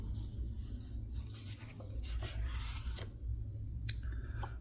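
Pages of a large 11 by 17 inch printed lunar atlas being turned, soft papery rubs and scrapes coming in uneven bursts, close and quiet.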